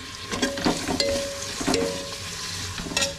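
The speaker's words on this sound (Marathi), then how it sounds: "बिर्याणीसाठी ना कांदा परतवून घेते मी" Onions sautéing in a pan for biryani, a continuous close sizzle and crackle with a few stirring scrapes, heard alone without talk.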